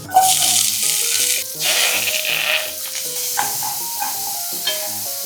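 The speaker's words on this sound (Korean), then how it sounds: "팬에다가 올리브유를 넣고요. 팬을 아주 뜨겁게 달구라고 합니다." Olive oil heating in a very hot pan, giving a steady bright sizzle with soft scraping and stirring noises and a few small pops, close and alone without talk.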